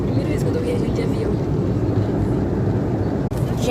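Steady broadband roar of an airplane cabin during flight, a constant engine and air rush throughout with a brief dip near the end, close and fairly loud.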